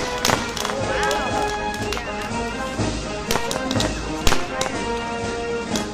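A homemade detonator ignites and throws up a fire tornado, giving sharp popping cracks and thuds scattered over a dense roaring, crackling bed. Loud and close throughout, with people talking over it.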